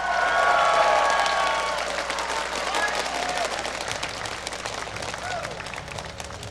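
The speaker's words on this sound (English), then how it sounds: "let me hear you guys cheer for these two teams" A large crowd at a League of Legends world championship match cheers and applauds loudly, sustained clapping and shouting with a few rising whoops that stays strong and slowly eases.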